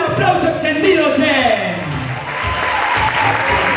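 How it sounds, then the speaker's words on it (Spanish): A crowd claps at length for a dance couple at a festival performance, the applause steady and loud beneath a voice talking over it. "Un aplauso extendido"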